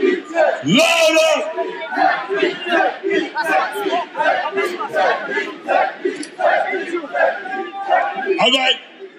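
A concert crowd at a live hip-hop show at Manchester Academy cheers, whoops and shouts loudly in repeated swelling bursts, with voices overlapping and near.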